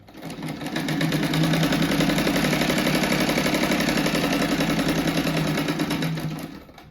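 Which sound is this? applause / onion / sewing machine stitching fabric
sewing machine stitching fabric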